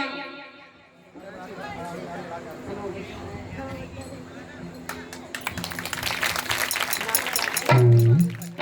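An audience at a staged retelling of Siddhartha's birth breaks into clapping, the applause building in the second half and mixing with loud chatter and voices.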